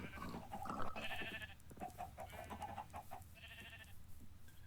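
Sheep in a Minecraft-style block-building game bleat in short, repeated calls over a faint background murmur, quiet and close, without anyone talking.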